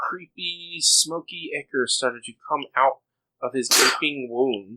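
A single sharp sneeze bursts out during a tabletop role-playing game session, loud and close, after a pause in someone's narration, with talking resuming right after.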